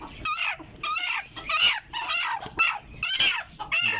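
Newly hatched bantam chicks peep loudly and close by in rapid, high, repeated chirps that come in quick bursts with short gaps.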